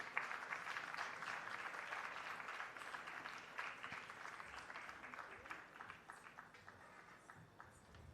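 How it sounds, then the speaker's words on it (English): Audience applause at a Bharatanatyam dance debut (arangetram), a sustained wash of many hands clapping at moderate distance that gradually thins and softens toward the end, with no talking over it. "that deserves a huge round of applause"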